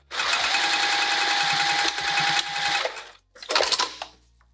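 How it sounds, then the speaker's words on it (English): A sewing machine stitches a woven vinyl zipper pouch in a steady, fast, close whirring run of about three seconds with a slight break partway through, then stops and gives a second short burst after a pause. "we're gonna sew right along here again"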